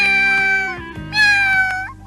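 A cartoon cat meows in long, drawn-out cries, close and fairly loud, with a steady tone that rises and falls slightly over a couple of seconds.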